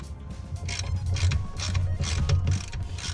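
Bolts on an off-road seat mount in a Polaris are undone with a ratchet, giving a close run of rapid clicking pawl ticks with mechanical rattles and no talking.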